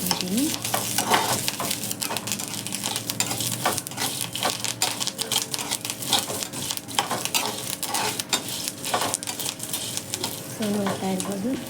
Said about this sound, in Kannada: ಬ್ಯಾಡಗಿ ಮೆಣಸಿನ್ಕಾಯಿ, ಕರಿಬೇವನ್ನ ಹಾಕ್ಬಿಟ್ಟು ಇನ್ನೊಂದು ಸಾರಿ ಫ್ರೈ ಮಾಡ್ಕೊತೀನಿ